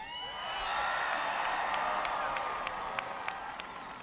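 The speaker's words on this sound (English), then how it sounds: "You deserve a big round of applause." A large crowd at a 1996 President Clinton rally in Portland applauds and cheers at a distance, a broad wash of clapping that swells and holds steady, with occasional whoops rising above it.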